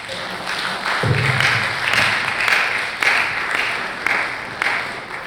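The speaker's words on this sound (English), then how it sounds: "Another round of applause for Princess Shibora" An audience applauds steadily, a dense wash of clapping with a few louder individual claps standing out, lasting the whole time.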